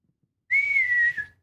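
A human voice imitates a whistling screamer firework, giving one steady, close whistle that holds for under a second and then trails off.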